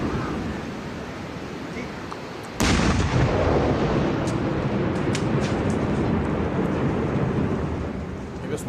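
A controlled detonation of explosives found beside the Kishtwar–Keshwan road in Jammu, set off by security forces: one sudden loud blast that then rolls into a long, sustained rumble.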